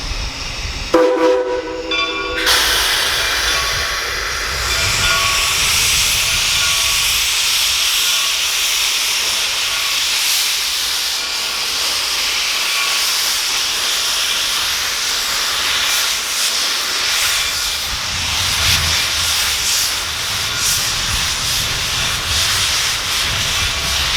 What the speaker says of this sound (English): we'll watch as Shay No. 2 sets out on its first run of the day.